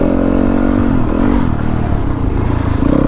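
Engine of a 2019 Yamaha WR250F dirt bike running loud and close, a steady rough throbbing drone with slight shifts in pitch and no voices.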